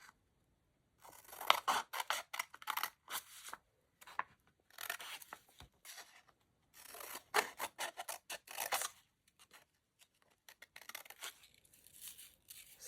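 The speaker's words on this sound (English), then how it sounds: "and I'm going to cut this." Scissors snip through a scrap of security envelope paper that was used for painting, a series of close, crisp cuts in bursts separated by short pauses.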